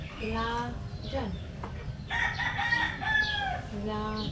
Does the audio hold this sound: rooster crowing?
yes